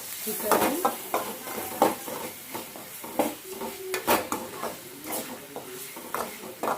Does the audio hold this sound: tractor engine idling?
no